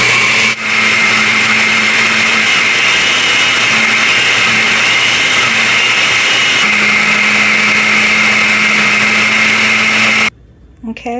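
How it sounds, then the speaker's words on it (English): An inexpensive blender grinding corn whirs loudly and steadily for about ten seconds, its motor pitch shifting partway through, then cuts off abruptly. "it will get too hard for my cheapy Walmart blender to blend"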